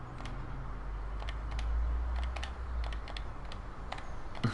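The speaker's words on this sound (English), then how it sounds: "You probably hear me clicking." Mouse and keyboard clicks from a computer running Jurassic World: Evolution, sharp scattered taps in irregular bursts over a low steady hum.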